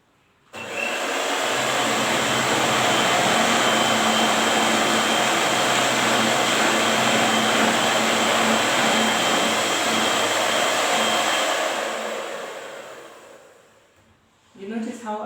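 An electric mixer beats cake batter for a zebra cake after milk is added, a loud steady whirring buzz starting abruptly and running for about eleven seconds before winding down, with a brief voice at the end.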